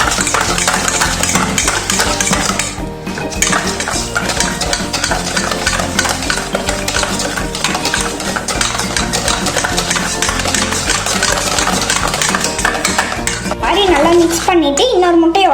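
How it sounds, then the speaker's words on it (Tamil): Vanilla cupcake batter being stirred and mixed in a bowl, a loud, continuous rhythm of scraping and sloshing strokes, with a voice coming in at the very end. "நல்லா கலந்துக்கலாம்."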